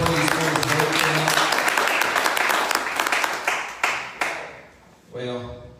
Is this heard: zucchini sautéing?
no